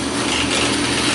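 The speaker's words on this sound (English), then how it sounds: "Got my my drill press tight, and you know, let's do it." A drill press set to a fast speed bores a 1/4 inch hole through a workpiece, likely wood, for a Halloween prop scissor mechanism, giving a steady, loud, close whirring grind that continues without a break and with no talk.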